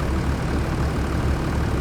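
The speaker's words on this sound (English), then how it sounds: "So we'll just hop back in this tractor." A tractor engine idles in Farming Simulator 25, a steady low, close rumble that stays constant and unbroken for the whole short stretch.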